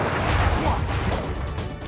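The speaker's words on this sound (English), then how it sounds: "I will send you to your doom with the beauty of my new firework technique" Firework explosions from a fire-based attack in the Sly Cooper video game burst in quick succession, with loud crackling pops and crashes across two seconds.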